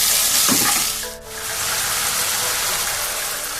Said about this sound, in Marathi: आता शेजवान चटणी टाकणार आहोत आपण दोन चम्मच घेतली होती ती पण टाकायची मिक्स करायचं